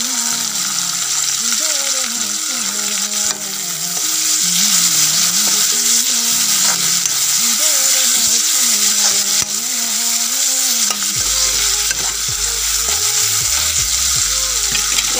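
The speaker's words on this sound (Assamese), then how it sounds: "এইখিনি মই অলপ দেৰি ৰঙচুৱা হোৱালৈকে ভাজিম।" Chunks of eel meat fry in a pan with turmeric, cumin and coriander powder, giving a loud, continuous sizzle with scraping stirring strokes close by, as a voice talks over the cooking.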